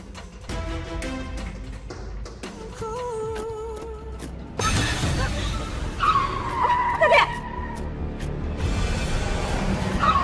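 A car brakes suddenly and its tires squeal and skid loudly over a constant rumble of road and engine noise, with a shrill, wavering squeal near the end.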